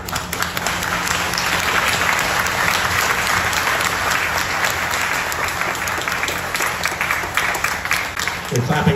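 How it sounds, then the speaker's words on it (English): Audience at a Superman Celebration fan convention Q&A panel breaks into sustained, dense applause and cheering that fills the hall steadily for the whole stretch, with crowd voices mixed in before it thins out at the very end. "They're clapping for yourselves, not for me."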